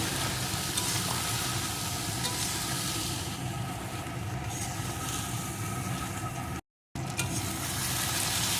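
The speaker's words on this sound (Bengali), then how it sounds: "এখন আমি কচুরলতিটাকে সুন্দর করে নেমড়ে বেশ কিছুক্ষণ ভেজে নেব" Taro stolons, kochur loti, fry in a pan for a tasty rohu fish dish, giving a steady, continuous sizzle with stirring scrapes throughout and a short gap of silence near the end; no talking.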